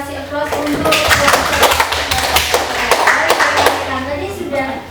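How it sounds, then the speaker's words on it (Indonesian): Audience applause in a university classroom, a burst of many hands clapping continuously and fairly loud, mixed with voices talking and calling out over it. "Kita kasih aplaus untuk"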